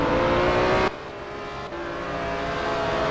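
Race cars on a back straight, a loud engine roar that cuts off sharply, then a quieter engine drone that slowly builds as another car approaches.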